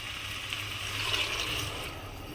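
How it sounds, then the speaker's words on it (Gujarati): Water poured into a mixed masala for Gujarati khichdi, a steady close rushing splash of liquid that continues evenly for a couple of seconds. "આ રીતે મિક્સ થઈ ગયું છે બધું એટલે એમાં રેડીશું પાણી"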